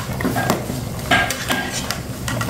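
Metal utensils clink and scrape against a pot of stewing duck bone and pumpkin soup in a few irregular strokes, close by, with a faint background hum and no talking.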